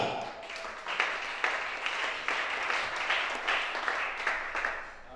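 A church congregation applauds during a worship service, a sustained wash of many hands clapping with rhythmic surges, moderately loud and without talk.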